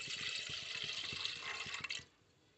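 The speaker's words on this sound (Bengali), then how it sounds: "মালাই বানানোর জন্য দুধটা আমি দিয়ে দেব" Milk is poured into a pot to make malai, a steady close splashing stream for about two seconds that then stops abruptly, with no talking.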